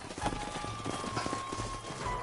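Horses trotting in the Western video game Red Dead Redemption, a steady stream of overlapping clip-clop hoofbeats over a low rumble and a faint constant tone, with riders coming to a halt.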